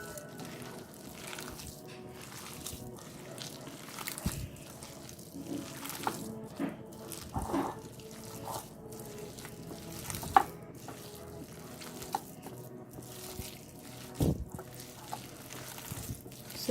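Onion slices and besan batter being mixed by hand for kanda bhaji, with soft wet squelching and irregular stirring knocks against the bowl, close and fairly quiet throughout.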